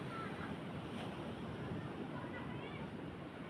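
Sea waves wash at a Mindoro beach resort at sunset, a faint, steady surf hiss mixed with wind on the microphone, with soft voices in the background.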